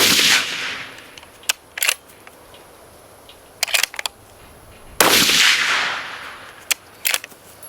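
Two loud, sharp 6.5 Creedmoor rifle shots crack outdoors several seconds apart, each trailing a brief echo, with a few smaller clicks and clacks of handling between them and no talking.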